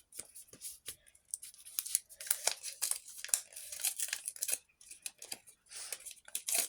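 A paper surprise packet crinkles and tears in a series of short, sharp bursts as it is pulled open up close.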